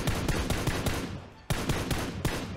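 Rapid automatic gunfire in PUBG on the snowy Vikendi map, loud and close, firing in a fast stream with a short pause before another burst starts.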